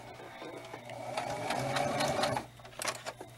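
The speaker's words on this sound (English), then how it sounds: "I'm going to sew slow to make sure I keep that rounded edge" A sewing machine stitches a rounded edge on doll fabric, a close steady mechanical whir that runs slowly for about two seconds, stops, then gives a few short bursts.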